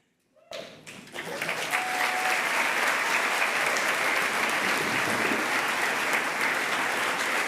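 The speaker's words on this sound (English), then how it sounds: "Let's give a round of applause right now." Applause from a graduation ceremony crowd begins abruptly after a short pause, then swells into sustained, dense clapping from many people that holds steady to the end.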